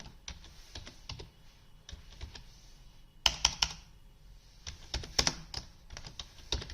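Keys clatter on a computer keyboard while text is entered into an Excel sheet, in short irregular bursts of close clicks with brief pauses and a couple of louder clustered strokes.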